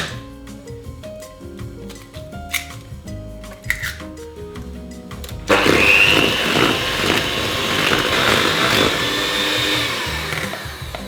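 An electric mixer beats egg into creamed butter and sugar, switching on partway through with a loud, steady whir close by after some quieter clinking.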